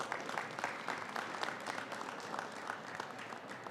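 Applause from an audience at a legislative memorial bill announcement, dense steady clapping that fills the room throughout without voices.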